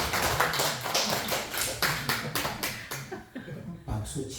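A lecture audience in a Korean church hall claps briefly after a joke about glucose, with some laughter mixed in; the dense, irregular clapping comes from many hands, stays fairly close and fades near the end, and talking and chuckling run underneath.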